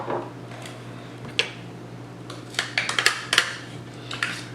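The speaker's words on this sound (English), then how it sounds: "We'll give it a brief stir, a brief mix." Lentils and chopped vegetables stirred together in a bowl for a lentil casserole, giving a few soft scrapes and light clinks of a utensil against the dish, mostly in a short cluster of quiet knocks.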